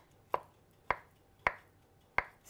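A knife slices through fennel on a board for an orange, fennel and avocado salad, making four crisp, evenly spaced cuts about half a second apart, close and fairly quiet with no talking.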